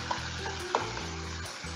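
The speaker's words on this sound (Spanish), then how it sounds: "vamos a echar la cebolla" Onion hits a hot pan with squid for seafood paella, giving a close, steady sizzle with a few light clinks and stirring scrapes, with no talking.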